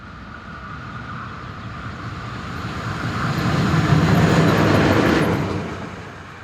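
A Swiss electric locomotive runs light with no wagons on a line near Langenthal, its rumble and whine swelling as it approaches and passes close by, then fading slightly.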